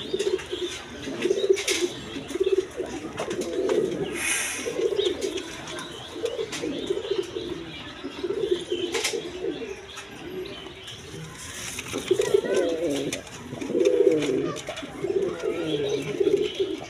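Red Rajgolla pigeons coo in low, throaty, repeated phrases close by, with faint chirps and a brief flutter of wings among them.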